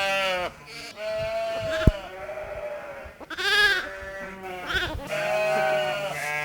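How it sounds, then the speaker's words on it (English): Lambs and sheep of mixed breeds bleat in a busy lambing shed on a farm. Several overlapping calls ring out near and loud, one after another, with quieter shed noise between them. "And in the shed behind me, lambing is in full swing."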